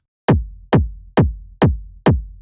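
A punchy, clean techno kick drum sample loops five times at an even pace, each hit a sharp close thump with a short low decay, alone with nothing else sounding.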